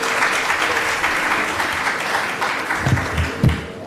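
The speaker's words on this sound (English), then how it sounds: "Let's give him a round of applause." Dense, steady clapping from a crowd at a festival opening ceremony, continuous throughout with no voices.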